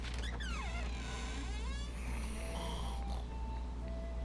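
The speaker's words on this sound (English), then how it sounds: "I'm glad they added the snoring." A snoring game character in Gravity Rush 2, heard as a drawn-out snore with a rising and falling whistle over a steady low in-game drone, plus shorter snorts and tones later on.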